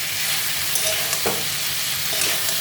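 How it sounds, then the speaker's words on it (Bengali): Boiled cauliflower and potatoes are sautéed in a spice masala in a pan, giving a constant, close sizzling hiss with a couple of brief scraping stirs. "একটু কষিয়ে নেবেন এরকম করে মশলাটার মধ্যে"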